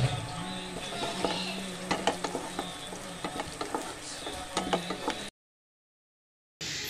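Curry leaves drop into hot oil for a fish molly, crackling and sizzling close by with sharp popping bursts and a few spatula scrapes, then the sound cuts out briefly near the end.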